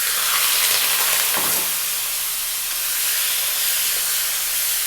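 Marinated goat meat for kaldereta fries in a hot wok with oil, making a continuous loud sizzle and hiss with bursts of steam, and no talking.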